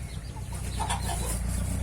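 Village chickens sunning their spread wings give soft clucks and a few short calls, faint and fairly close, over a low, pulsing background hum.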